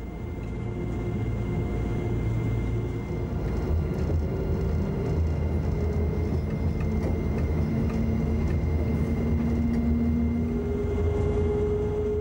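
A train runs along the Würzburg–Hannover high-speed line, a steady low rumble with droning hum and faint tonal whines that rise and shift, continuous and moderately loud throughout.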